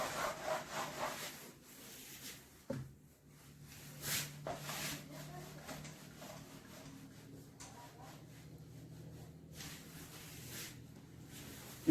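A duster or cloth rubbing across a classroom board to erase writing, faint scrubbing strokes in irregular bursts with soft taps, and a voice speaking briefly.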